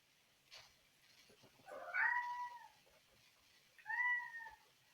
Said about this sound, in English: he is meowing for breakfast